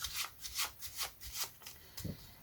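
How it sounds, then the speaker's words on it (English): A deck of playing cards being shuffled by hand in an overhand manner, a quick run of soft rubbing, riffling strokes up close with no talking. "you shuffle to the break, and you throw"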